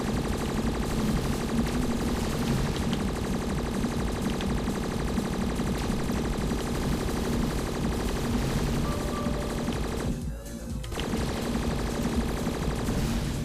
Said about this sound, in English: Oh, we've got a mad auto gun.